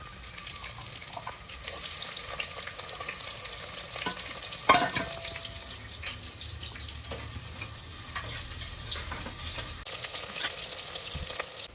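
Sliced onions hit hot oil in a pan while white mutton biryani is being prepared, giving a steady sizzle and frying hiss with stirring scrapes and a brief louder clatter midway, without any talk.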